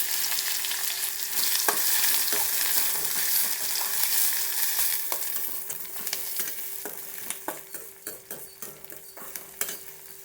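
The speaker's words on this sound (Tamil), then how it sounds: "வெங்காயம் வதங்கட்டும்." Onions with curry leaves and popped mustard seeds sizzling in hot oil for a stingray fish curry with pepper and garlic, a continuous close fry under sharp spoon clicks against the pan that grow more frequent toward the end.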